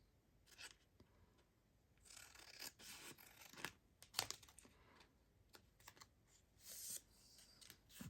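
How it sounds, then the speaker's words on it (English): Scissors snipping the corners off paper pockets in a craft project, a handful of quiet, crisp cuts and rustles spread out over a faint, low background. "Just snipping off the corners a little bit."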